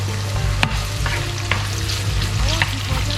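Onion fries in oil in a pan on an electric stove, a loud close sizzle with brief stirring scrapes and crackles over a low steady hum.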